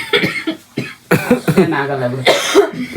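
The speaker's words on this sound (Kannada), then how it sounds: "ಅರೆ ಕೆಮ್ಮು ಬಂದ್ರೆ ಹಿಡ್ಕೊಳಕ್ಕಾಗುತ್ತೆ?" A run of harsh coughing bursts, several in quick succession, with throaty voiced sounds between them, close and fairly loud.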